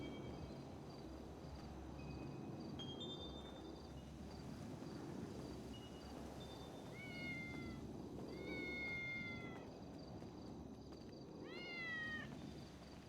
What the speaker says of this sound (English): on, I'm gonna go get my cat